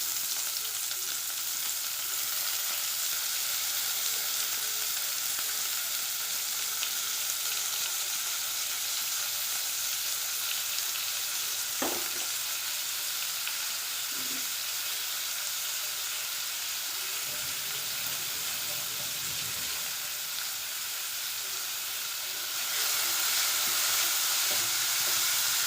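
Onions and cumin sauté in a pan for an egg and drumstick masala, a steady, close sizzling hiss that continues throughout, with occasional stirring scrapes and a louder burst of frying near the end.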